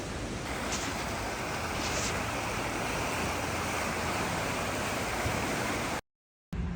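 A river flowing past a shopping area in Rocky Mountain National Park, a steady broadband rush of water, continuous and fairly distant, with no voices, cutting off briefly near the end.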